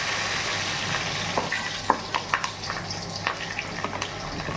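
Four chillies sizzle in hot oil with cumin and bay leaf at the start of pea ghugni, a steady close frying hiss with sharp crackles and pops and a few stirring clicks, no talking.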